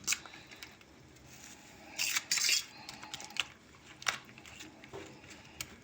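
A utensil stirs and clinks in a bowl while eggs are mixed with cheese and green onion, with scraping strokes and a couple of louder bursts of rapid clatter close by.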